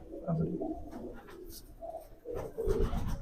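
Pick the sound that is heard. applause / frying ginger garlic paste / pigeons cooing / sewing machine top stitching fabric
pigeons cooing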